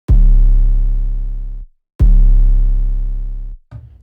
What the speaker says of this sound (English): And my 808 sample sounds something like this.